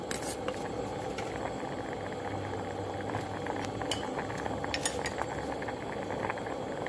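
Seafood tom yum soup with squid bubbles and boils in a pot, a steady soft churning hiss joined by occasional clinks of utensils against the cookware.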